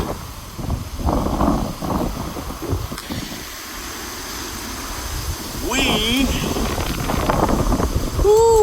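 Strong gusty wind buffeting a container home during a tornado warning, roaring and rushing in surges with rumbling microphone buffeting, steady and close throughout.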